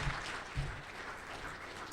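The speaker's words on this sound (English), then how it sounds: "So let's give him a warm round of applause." An audience at a Black Hat security conference session applauds, steady many-handed clapping heard somewhat faint and distant in a large room.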